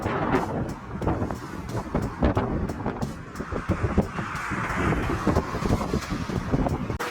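Strong gusting wind buffets a Boeing 767 airliner landing at Prague airport, a steady broadband roar with rough, rumbling low-end bursts throughout, loud and close with no voices.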